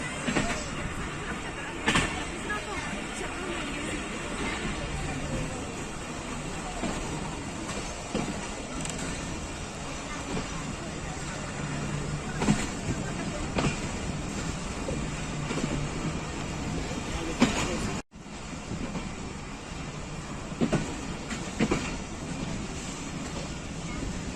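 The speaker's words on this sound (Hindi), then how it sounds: "अब पाकिस्तान एक्सप्रेस दीना से रवाना।" Pakistan Express pulling out of Dina station in Pakistan, a steady broadband rumble of the moving train with wind buffeting the microphone throughout, a brief dropout near the end, and a voice faintly present.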